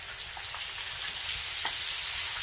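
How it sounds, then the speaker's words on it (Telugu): Fish frying in a pan, turned over to the second side, gives a steady close hiss and sizzle with a few faint pops and scrapes and no talking. "ఈ ఫ్రై చేస్తున్నాం. రెండో పక్క తిప్పుతున్నాం."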